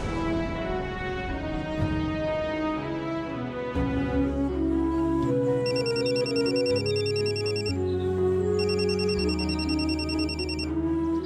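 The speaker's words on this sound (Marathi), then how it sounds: "साहेब, मला एक फोन येतोय," A phone rings with an incoming call, a repeating electronic ringtone melody that plays loud and close for about eleven seconds over a sustained musical background, with no talking.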